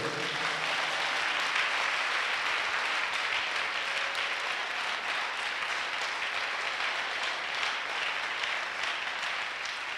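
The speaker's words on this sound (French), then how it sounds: "If you are happy, just give the Lord a big clap." A church congregation claps together during a worship service, a dense, steady wash of applause filling the room for the whole stretch with no break.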